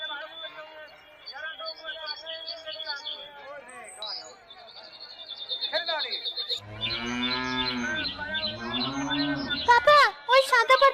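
At a Qurbani animal market, cattle give loud, drawn-out moos close by. Calves are among the animals, and busy background chatter and chirps run beneath the lowing.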